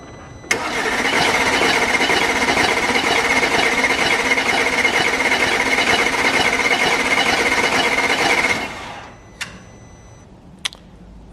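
An Audi RS7 engine cranks on the starter for about eight seconds during a cylinder compression test, a loud, rapid, even chugging that stops abruptly and is followed by a few faint clicks.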